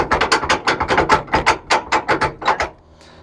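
Loud, rapid clunking rattle of a loose trailer hitch without a hitch tightener knocking back and forth, about a dozen metallic knocks in quick succession before stopping.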